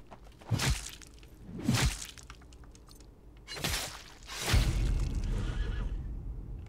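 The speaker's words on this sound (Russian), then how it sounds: "Тут лошадь еще где-то, я слышу." Horse neighing in the Pascal's Wager video game, several loud whinnies rising and falling in sequence, with a breathy snort-like burst near the end.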